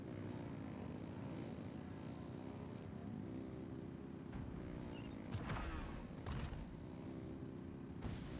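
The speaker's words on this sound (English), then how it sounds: "Rev the engines!" Aircraft engines rev in a Genshin Impact battle scene, a steady, loud propeller drone that carries throughout, broken by a few sharp bursts toward the end.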